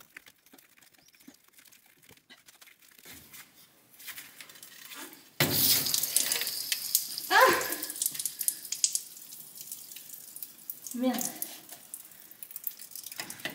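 Water bursts out of a pipe in a loud spattering gush during old plumbing removal, followed by dripping and splashing, with a brief exclamation from a man partway through.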